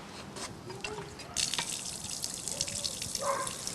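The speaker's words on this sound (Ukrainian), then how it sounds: "Побігла вода." Water gushing from a key-operated public standpipe pump, a splashing, dripping stream that grows stronger partway through, with faint voices in the background.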